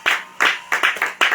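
A small congregation claps in a short, irregular run of about six sharp handclap bursts, fairly close and clear, with no talking over them.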